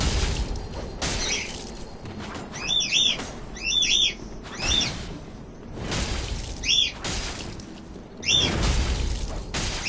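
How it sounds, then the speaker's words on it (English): Shrill bird screams and chirps ring out in a video game, several bursts of harsh calls in quick succession over a steady rushing background, fairly close and loud. "The birds will always scream."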